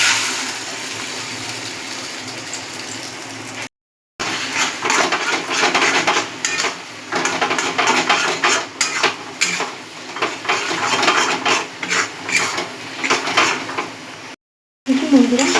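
Eggs being scrambled in a hot pan, with busy close scraping and clattering of a utensil against the metal amid a steady sizzle, broken by two brief silent gaps.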